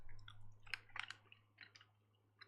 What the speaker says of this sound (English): I'm really feeling like eating a gummy bear right now, so you're gonna have to deal with some chewing noises quickly.